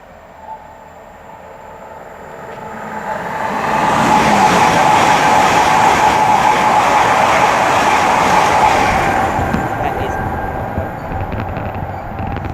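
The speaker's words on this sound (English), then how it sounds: "And now approaching, getting ready to pass by, is going to be 1 Bravo 51, the 1604 Great Western Railway service to Swansea from London Paddington" A Great Western Railway Class 800 pair, units 800 007 and 033, passes at Twyford on the Great Western Main Line, working the London Paddington to Swansea service; a rising rush grows loud and close, holds with rolling wheel noise, then fades.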